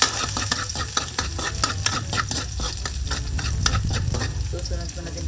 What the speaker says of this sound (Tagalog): Lagay na tayo ng mantika. Lagay ko na itong bawang.